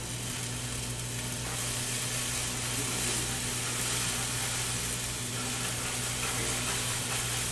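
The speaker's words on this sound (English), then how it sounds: "we're going to dump in our 2 ounces of white wine, and we're going to let that reduce a little bit" White wine poured into a pan still hot from sweating garlic sizzles and reduces on the stove, a steady broadband hiss running evenly and close with a low background hum underneath.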